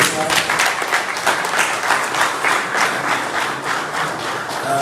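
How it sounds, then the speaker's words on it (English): People applaud the Ghana Black Stars players and staff in Kumasi, steady lively clapping from a sizable group with a few voices mixed in. "I would like you all just to give a special applause for the players"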